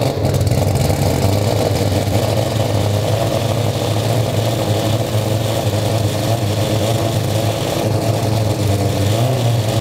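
A four-rotor rotary engine runs steadily and loudly up close, a dense, even droning rumble that holds at one pitch throughout, with no talk.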